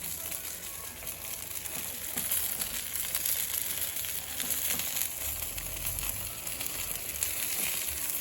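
Jerk buffalo wings on a grill give off a steady, dense sizzle with fine crackling, close and continuous throughout, with a few soft low thumps mixed in.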